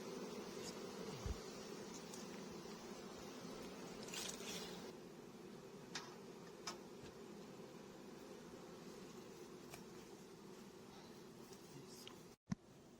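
Low, constant hum of a large honeybee swarm at the hive, faint and steady throughout, with a few soft knocks and a brief handling noise near the end.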